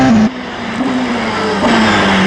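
A Porsche 919 Hybrid Evo race car accelerates hard, its loud engine note holding a steady high drone, dipping briefly at a gear change and then climbing again close by.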